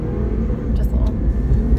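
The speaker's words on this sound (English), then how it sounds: "You can see there's plenty of power just off the line for this car." A Lexus IS300 F Sport pulls away from a standstill, its engine giving a steady, loud low rumble and whir for about two seconds from close inside the car.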